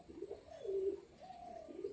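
A pair of white-headed Jiriya Madras pigeons gives a short, soft cooing phrase of a few drawn-out, rolling notes, faint and close, with no talking.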